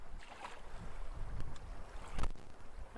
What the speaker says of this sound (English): The wind is insane right now.